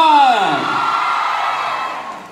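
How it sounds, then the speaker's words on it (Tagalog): An elementary school crowd at a townhall meeting lets out a loud, sustained cheer that swoops downward and gradually fades, with voices whooping together. "Pumalakpakap mo lahat na may kasamang hiyawan!"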